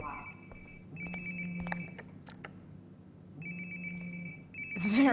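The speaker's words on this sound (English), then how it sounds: "Sounds like my phone is definitely nearby." A phone ringtone in the video game Life is Strange: Before the Storm rings in two separate repeated bursts, clear and fairly close, over a low ambient hum, with a brief rising tone at the end.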